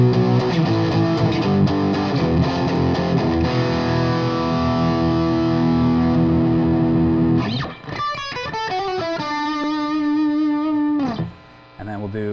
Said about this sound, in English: now we've got some distortion, and we're going to play through the different pickups